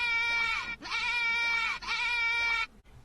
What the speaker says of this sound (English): I just want you to hear the sound that this GOAT makes.